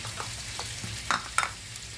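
Butter sizzles in a very hot pan while cooking steak, a continuous close crackling hiss with a couple of brief louder pops and no talking.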